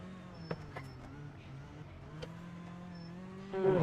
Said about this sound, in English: definitely need to increase the engine volume because I like to hear the engine to judge the rest